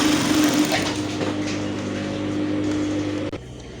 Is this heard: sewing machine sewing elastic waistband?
yes